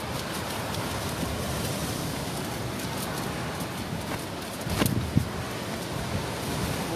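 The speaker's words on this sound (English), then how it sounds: "There's a good surf to it." Sea surf on a fishing shore churns steadily with strong wind buffeting the microphone, forming a constant dense wash with a brief bump partway through.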